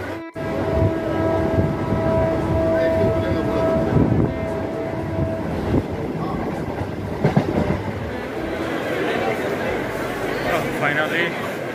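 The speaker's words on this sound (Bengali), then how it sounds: "এই হচ্ছে বনগাঁ লোকাল ট্রেন।" A Bangaon local train stands at a station platform, giving a loud rumbling, clattering din with a long sustained horn tone near the start, while a person talks over the noise.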